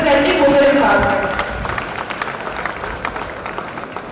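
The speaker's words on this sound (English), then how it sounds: "Please welcome her with a huge round of applause." An audience at an HR conference applauds a speaker taking the stage, the clapping fairly close and steady. Voices and music sit underneath it at first, then the applause thins into scattered claps.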